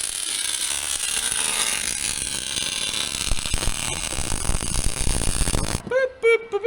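A ratchet wrench removes motor mounts from a Jeep engine in a garage: fast mechanical clicking over a constant noisy background, growing busier toward the end before a brief voice.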